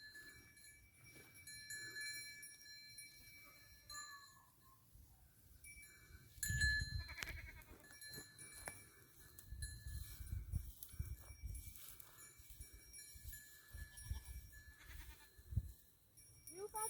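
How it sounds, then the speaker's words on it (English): Goats and a sheep on a small farm bleat repeatedly at varying distances, calls overlapping with rustling and occasional thuds, some near and some faint. "the sheep's been shouting at me this morning because I've fed the goats and I've not fed him yet"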